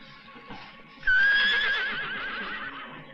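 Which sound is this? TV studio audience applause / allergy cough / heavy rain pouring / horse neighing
horse neighing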